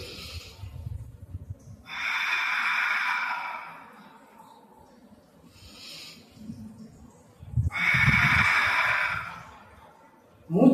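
A person breathes during an exercise routine: two long, strong breaths close to the microphone, several seconds apart, with quiet gaps between them.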